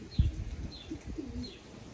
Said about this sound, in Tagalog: ang galing na ibon, anak ni Exodus